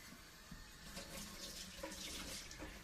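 Warm water runs from a tap into a sink as a soft, steady stream, faint and close with no voices.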